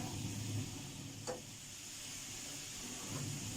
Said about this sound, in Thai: พอเดือดแล้วก็เอากระเทียมไปผัดให้หอมสักครู่หนึ่ง